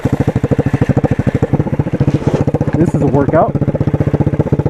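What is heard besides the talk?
125cc motorcycle engine running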